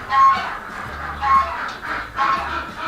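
Farm ducks quack in repeated loud bursts close by, about four clustered calls over a few seconds against a noisy barnyard background.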